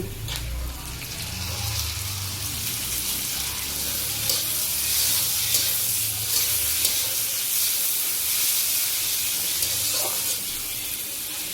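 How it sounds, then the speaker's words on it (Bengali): Chopped tomatoes hitting fried onions in a pan for butter chicken, giving a loud, steady hiss of sizzling that holds throughout with small crackles. "দেখুন বন্ধুরা পেঁয়াজটা আমরা ভেজে নিয়েছি এবার আমরা এর মধ্যে দিয়ে দেবো টমেটো কুচি"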